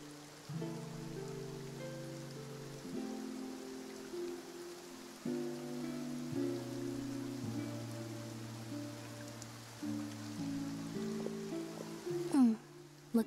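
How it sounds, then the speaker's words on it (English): Steady rain falls in Fontaine in the video game Genshin Impact, a continuous soft hiss beneath sustained musical tones, with no talk. "Looks like rain."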